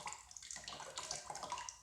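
Liquid glaze pours and splashes over a porous pottery piece, a brief continuous watery trickle heard up close and faint.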